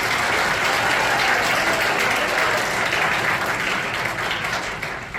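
Sustained applause from an audience at a college conference closing ceremony in Jammu, a dense wash of clapping that stays loud and even for the full stretch, easing slightly toward the end.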